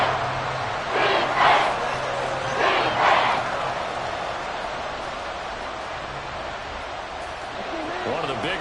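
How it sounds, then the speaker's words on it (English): A football stadium crowd roars steadily ahead of a big third down, a dense wash of cheering with a couple of louder swells early on, under faint voices. "the crowd getting into it as we come up on a big third down"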